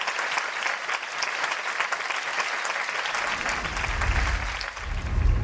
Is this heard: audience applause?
yes